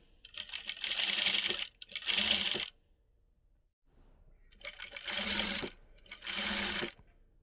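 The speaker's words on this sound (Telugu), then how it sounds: "ఆ పైపింగ్ పక్కనే కుట్టు వచ్చేలా చూసి అడ్జస్ట్ చేసుకుంటూ కుట్టుకుంటూ రావాలండి." A sewing machine stitches thread piping along a neckline in four short bursts of rapid whirring, close and clear, separated by quiet pauses.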